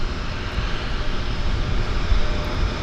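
A de Havilland Twin Otter floatplane at Vancouver Harbour starts its takeoff run, a steady, fairly loud broadband engine roar that holds without pause, with no talk over it.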